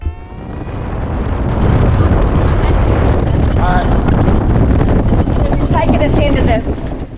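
Strong storm wind roars and buffets the microphone nonstop, with rushing water and faint creaks from an anchored boat dragging anchor beneath the gusts.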